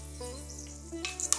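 Fenugreek seeds sizzle in hot oil for a tempering, a soft, low crackle over a steady background hum, with a few sharper pops near the end.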